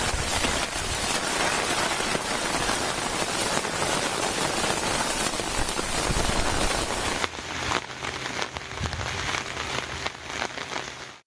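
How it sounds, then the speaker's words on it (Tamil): Heavy northeast monsoon rain falls over Mayiladuthurai and Sirkazhi in Tamil Nadu as a dense, continuous hiss. It is loud and unbroken, and its texture shifts partway through. "மயிலாடுதுறை, சீர்காழி உள்ளிட்ட பகுதிகளில் பகலிலும் இரவிலும் விட்டுவிட்டு கனமழை பெய்தது."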